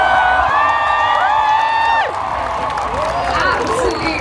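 A big grandstand crowd at the F1 British Grand Prix roars and cheers continuously, a dense wash of voices with whoops rising and falling, while an amplified announcer speaks over it.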